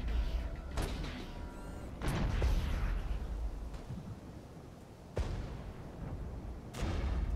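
Rocket artillery fire in the strategy game Regiments, a series of dull, muffled thumps and booms spread across a continuous low rumble, moderately distant and fairly quiet.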